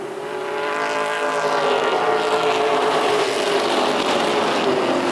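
Stock race cars roar around the track at the Boss Hogg 150, a loud, continuous engine drone with shifting pitch as the pack passes, heard without commentary.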